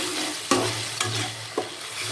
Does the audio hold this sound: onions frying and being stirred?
yes